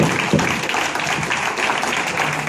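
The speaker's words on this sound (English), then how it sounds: "Let's give a strong round of applause for everybody" A crowd at a community event gives a round of applause, dense scattered clapping that runs continuously and fairly loud throughout, with no speech over it.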